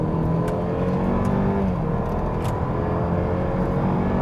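Opel Insignia GSi facelift with front-wheel drive accelerating from 50 to 100 km/h, a steady, loud engine drone with rising tones heard from inside the car, without talk.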